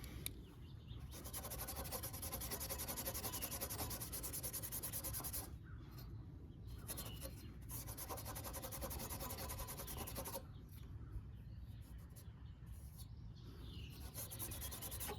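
Steady, close abrasive rubbing and scraping on the metal ignition coil and flywheel of a WeedEater 21-inch push mower, running almost continuously with a few short pauses, no talk.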